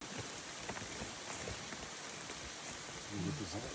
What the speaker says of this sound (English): Oh, here comes some rain.